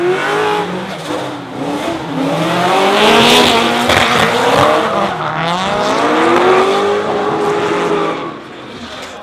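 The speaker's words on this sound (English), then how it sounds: "Fangadan taking a clean run over Chris Jackson in the Surfab S14" Drift cars battling at the D1NZ drifting championship in Auckland, including a Nissan S14, with loud screaming engines revving hard and long tire squeals as the cars slide past close by.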